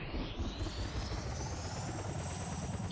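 Helicopter in a Roblox prison-escape game, a steady, loud rotor thrum and whine, with engine pitch slowly rising and nothing else over it.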